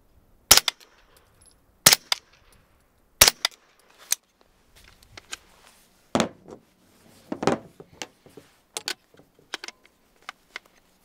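Three sharp suppressed gunshots through a Wolfman suppressor, evenly spaced and loud, followed by quieter clicks, clatter and handling noises.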